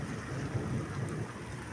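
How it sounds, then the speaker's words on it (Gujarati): Heavy rain roars as a dense, low rumbling wash, steady and fairly faint, with no voices over it. "ઓણ વૃષ્ટિ બહુ જોરદાર થઈ ગઈ છે વરસાદ"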